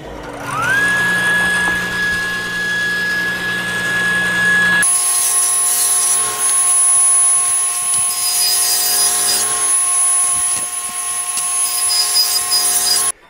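A power saw rips a board for a dining table, running loud and close the whole time with a steady whine that shifts pitch midway as the blade bites into the wood.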